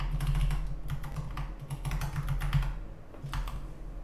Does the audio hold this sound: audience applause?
no